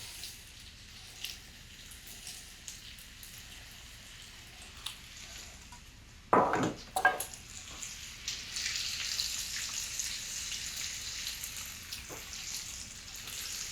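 Butter and mushrooms sizzle in a pan for mushroom risotto, a soft steady hiss that swells after a couple of clattering knocks from the pan and keeps crackling faintly to the end.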